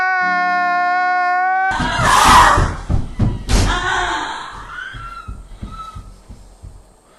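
Several heavy door slams and thuds ring out in a holophonic binaural recording, following a steady electronic tone; scattered knocks and shuffling continue afterward with faint voices mixed in.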